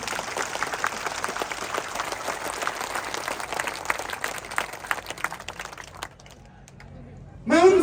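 Audience applause at a political rally in Didwana assembly constituency, a dense sustained clapping crowd filling most of the stretch before thinning out, with a brief loud burst of sound near the end.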